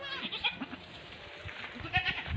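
Several goats bleat in short, scattered calls while being herded, fairly close and moderately loud over a quiet outdoor background.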